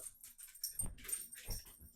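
A dog gives short whimpering whines and breathy sounds in two brief bursts while playing with a ball indoors.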